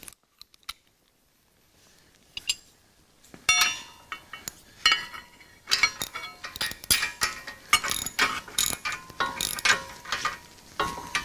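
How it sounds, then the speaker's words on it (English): A 3/4 inch wrench and socket ratcheting a bolt while assembling a CountyLine post hole digger: after near silence, rapid metallic clicking starts and continues in uneven bursts, close and crisp. "that's a 3/4 inch wrench and socket"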